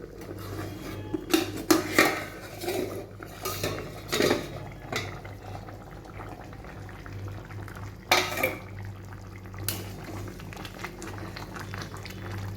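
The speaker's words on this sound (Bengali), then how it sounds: "ঢাকনাটা এবার খুলছি" A metal lid clanks and scrapes off a pot of chicken curry simmering over a medium gas flame, several sharp clatters over a soft bubbling boil, then one more rattle later on.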